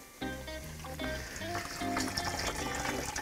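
A bag of spent grain hangs dripping during home brewing, with liquid steadily trickling and splashing into a vessel below, a busy continuous watery patter that is close and fairly quiet.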